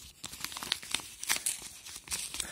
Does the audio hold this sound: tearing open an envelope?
yes